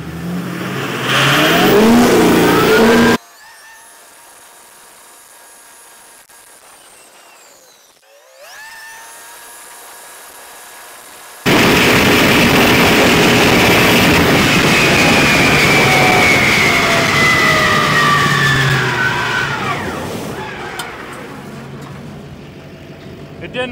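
A car pulls away hard from a third-gear start, its engine roaring loudly and climbing in pitch under load, breaking off briefly into a quieter stretch before revving hard again.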